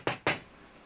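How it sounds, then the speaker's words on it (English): Two sharp knocks on glass, close and crisp, spaced a fraction of a second apart, followed by quiet. "it brings up a few instances of somebody knocking on glass"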